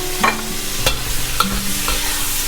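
Shrimp sizzle in a hot pan for chicken and shrimp fried rice, a continuous close frying hiss broken by several sharp stirring clacks and scrapes.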